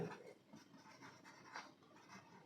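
A pen scratches across paper while the answer to a math problem is written out, a soft, close, continuous scribbling over about two seconds.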